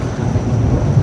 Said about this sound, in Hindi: बड़ी तेज ठंडरिंग हो रही है भाई अचानक से